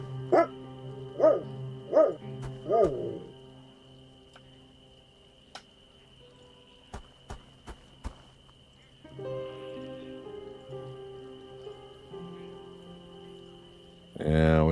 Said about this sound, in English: There's a guard dog there that won't let me past.